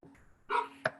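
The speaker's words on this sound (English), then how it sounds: "As you can hear my dog in the background" A dog barks twice in the background, one fuller bark followed by a sharp short one, moderately loud and with no talk.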